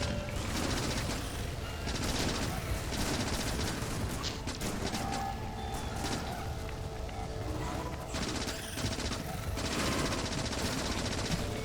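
Dense, continuous turret gunfire in a sustained Factorio battle, a relentless wash of rapid shots and crashing impacts that barely lets up across the whole stretch, with no voice over it.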